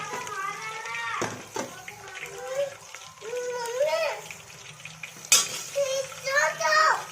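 Potatoes frying with turmeric for khichdi over a low gas flame, with a steady soft sizzle and occasional scrape of stirring running beneath someone talking throughout.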